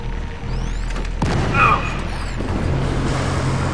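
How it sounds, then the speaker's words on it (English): Grenade blasts in the co-op shooter Helldivers, a heavy boom landing mid-clip over ongoing battle noise and rumbling, with game voice lines nearby. "Throwing grenades."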